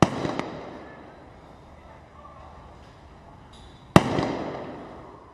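Sniper rifle shots at targets during a special forces shooting competition in Dubai, UAE: two sharp, loud reports, one at the start and one near the end, each followed by a long decaying echo, with quiet ambience between.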